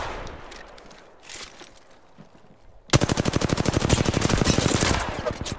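Rapid automatic gunfire in a battle royale shooter erupts suddenly after quieter ambient sounds, a loud sustained burst of closely spaced shots lasting several seconds.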